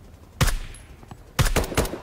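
Gunshots in the shooter game BRM5, two sharp, loud reports followed by a quick burst of several more, each ending in a short echoing tail.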